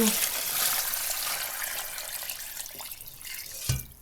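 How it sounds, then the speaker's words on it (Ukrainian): Water pours steadily into a pot holding onions for holodets, a bright, splashing rush that softens slightly toward the end, ending in a brief clunk. "Зараз залью водою."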